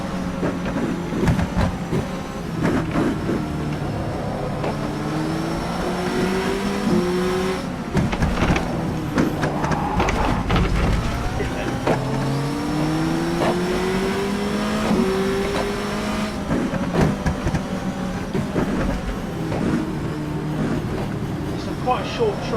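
Race car engine in the rFactor 2 sim racing game, revving up through gears with repeated rising pitch sweeps and quick shift drops on a short track, loud and continuous under someone talking.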